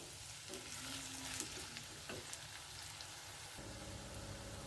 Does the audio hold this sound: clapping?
no